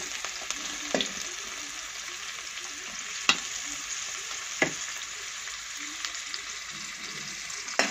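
Onions frying in about two spoons of hot oil for a kurma, a steady broadband sizzle with a few sharp scraping clicks of stirring spread across the span, close and moderately loud with no talking.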